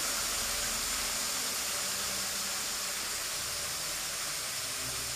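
Mourola fish, a pangas-like variety, frying in a pan of hot oil, giving a steady, even hiss and sizzle at a soft level with no one speaking.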